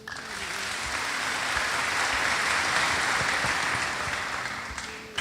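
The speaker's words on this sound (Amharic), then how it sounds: "አጨብጭቡለት" An audience breaks into applause, a broad wash of many hands that swells over the first second, holds steady, and tapers off toward the end of about five seconds, with no speech.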